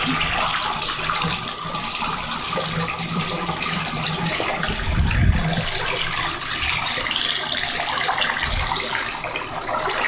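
Steady rush of tap water pouring into a tub being filled to wash wool, continuous and close, with a few low splashing thumps partway through.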